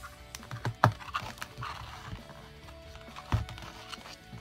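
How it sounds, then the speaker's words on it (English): Wire cutters snip through craft wire while making a DIY earring holder on a canvas, giving two sharp, close clicks about two and a half seconds apart over a quiet room. "you take your wire cutters and cut the wire"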